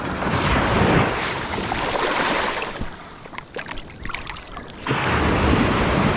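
Ocean waves break and wash up a beach in quick succession, with loud surging roar, a brief quieter backwash lull, then another heavy break; wind buffets the microphone.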